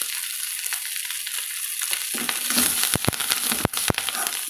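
Curry leaves and grated coconut sautéing in a pan, a steady close sizzle with scraping stir strokes and a few sharp clicks of a spoon against the pan toward the end.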